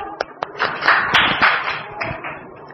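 Children in a Class 3 Hindi classroom clap together in a brief burst of many hands, moderately loud, after a couple of single taps, with no talk over it.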